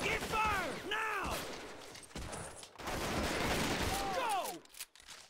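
Battlefield gunfire in the WWII strategy game Men of War: Assault Squad, with dense volleys and bursts filling most of the clip, loud and close, while voiced commands and callouts cut in over the shooting.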